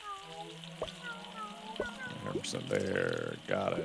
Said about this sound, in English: And reload the fryer.